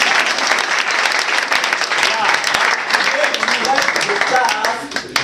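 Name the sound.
audience applause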